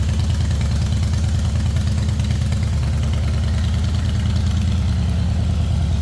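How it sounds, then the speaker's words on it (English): A 2007 Harley-Davidson Softail Deluxe motorcycle idling up close, its engine giving a loud, deep, steady loping rumble with an even pulsing rhythm and no voices. "Good sounding bike this size."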